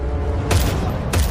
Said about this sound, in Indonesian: tiba-tiba Gita menembak mereka dari belakang